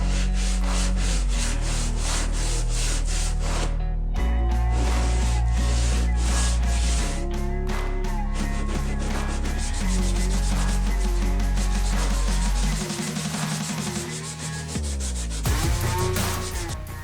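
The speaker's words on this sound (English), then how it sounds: "To get the panel flat, I go in with coarse sandpaper, P80 grit, and a sanding block." A car body panel on a beat-up former taxi is sanded flat with coarse P80 sandpaper on a sanding block, giving repeated rubbing strokes that sit partly masked beneath loud background music.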